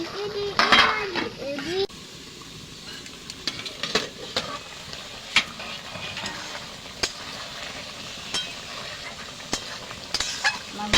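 Ground spice paste stirred into a fish curry of koi and shingi fish with potatoes in a pot, soft scraping and clinks of a spoon over a gentle sizzle, with occasional sharp taps against the pot.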